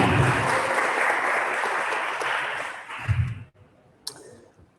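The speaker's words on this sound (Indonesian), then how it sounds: "Mari berikan tepukan yang meriah untuk setiap founders yang akan presentasi" An audience at a startup demo day claps loudly and steadily for a few seconds, then the applause cuts off abruptly, leaving near silence and a single click.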